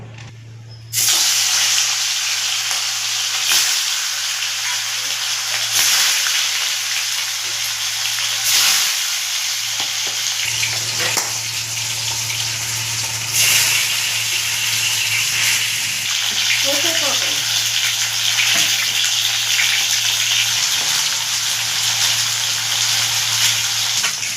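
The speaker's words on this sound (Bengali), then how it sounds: "তেল গরম হয়ে গেছে, এবার আমি মাছগুলোকে তেলের মধ্যে ছেড়ে দেব।" Katla fish frying in hot oil in a wok, a steady loud crackling sizzle that starts abruptly as the pieces go in and continues for the whole stretch, with occasional louder bursts of spitting oil.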